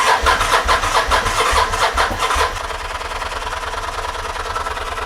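A Kawasaki Vulcan 750 motorcycle engine turns over and catches, with rapid rhythmic cranking pulses for the first couple of seconds, then a steadier, quieter idle chugging close by.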